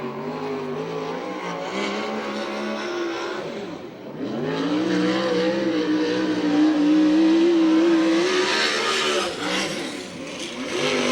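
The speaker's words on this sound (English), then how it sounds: "Green flag for Gardner" A USAC/CRA sprint car on track at Santa Maria, California, its engine roaring loud and close in a sustained high-pitched drone, with a brief dip near four seconds before the revs climb again, steady under open-air racing.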